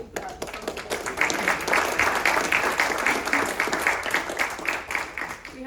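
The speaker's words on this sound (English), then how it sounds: "Round of applause to our panel" An audience claps for a university Federalist Society panel on Bush v. Gore, sustained steady applause swelling after a moment and holding evenly, with faint voices underneath.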